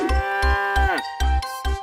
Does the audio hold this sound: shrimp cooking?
no